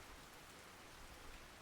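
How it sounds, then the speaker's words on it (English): Heavy rain pours down at the Mosquito lake in the fishing game Russian Fishing 4, a dense, even hiss of drops that stays steady and faint throughout with no voices. "We're just getting a downpour here at Mosquito."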